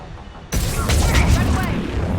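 A sudden loud missile blast erupts in the Mass Effect 3 Legendary Edition video game, followed by a sustained rumbling roar as the explosion rolls on, up close.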